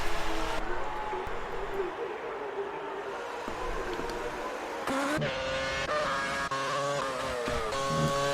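A Red Bull Formula One car in the F1 2019 racing game at the Hungarian GP, its high engine whine droning steadily throughout, with shifting harmonics and a sharper rising pitch in the second half as it works through the corners.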